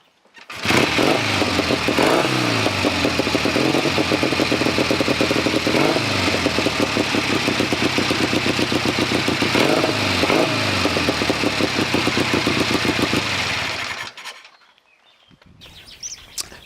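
A British Triumph Triton 650cc motorcycle with a 4-speed slick shift gearbox runs loud and steady close by for about thirteen seconds with a pulsing rhythm, then cuts off abruptly, leaving quiet background with faint chirps.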